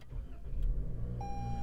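Engine of a 2021 Toyota Corolla SE with a 2.0 liter 4-cylinder Dynamic Force engine starting up: a low rumble from the engine catching, then a steady idle with a faint electronic tone.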